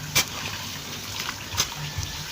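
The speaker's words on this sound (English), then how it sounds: "So water is coming in to it." Water trickles and splashes softly into a banana plant irrigation channel, a quiet steady flow broken by a few small splashes, with no talking.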